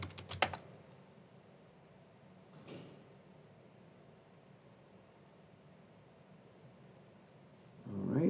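A password is typed on a computer keyboard in a short quick burst of key clicks, followed by a single stray tap and a low background hiss.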